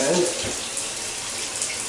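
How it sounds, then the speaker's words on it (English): Hot water gushes from a bathtub tap in an apartment, a steady hiss of flowing water that carries on unbroken at moderate level. "Hit on the hot water."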